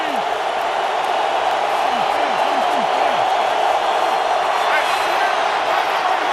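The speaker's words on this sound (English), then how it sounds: "This Charger crowd getting loud now on 3rd and 7." Chargers home crowd in a football stadium on third down, a dense, loud sustained roar filling the space while a commentator's voice runs over it.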